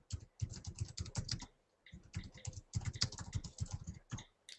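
Rapid bursts of clicking keystrokes on a computer keyboard, close and fairly quiet, in uneven runs with short pauses between them and no talk.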